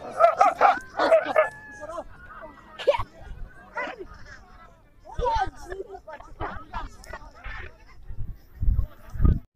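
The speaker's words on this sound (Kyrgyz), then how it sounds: "Кыргыз тайганы." Kyrgyz taigan hounds barking at a dog race, with short yelping and honking barks near the start and scattered bursts later, under outdoor crowd noise and people talking.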